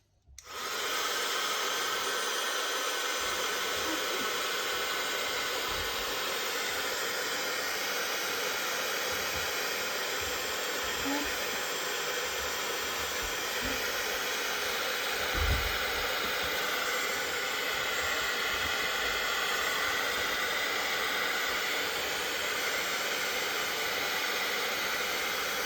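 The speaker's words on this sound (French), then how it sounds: "Et je vais venir embosser le tout avec mon pistolet chauffant." A heat gun embosses a card on a Teflon mat, blowing a constant loud, airy roar that holds steady throughout after switching on.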